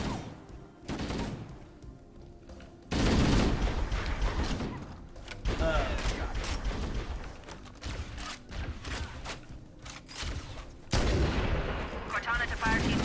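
Heavy gunfire crackles through a Halo video game battle, with loud bursts of rapid shots and booming impacts that start and stop in blocks, over game effects and a voice speaking briefly.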